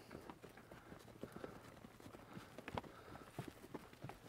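A young two-year-old Morgan horse's hooves clip-clop on the ground in a steady irregular walking rhythm, moderately close, with softer background noise of an outfitter's trail outing.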